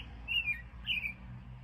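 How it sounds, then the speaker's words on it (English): An American robin sings by a river where channel catfish are being fished, two short bright whistled phrases at moderate distance over a steady low rumble of water or wind. "probably where this bird is singing"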